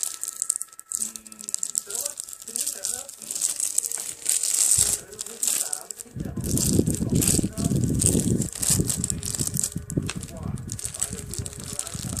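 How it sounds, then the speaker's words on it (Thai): Homemade edible slime is kneaded and squished by hand, giving a steady run of wet crinkling and squelching noises that grow fuller and louder in the second half, with someone talking over parts of it. "เดี๋ยวขอเวลาไปขยำเลยนะคะ"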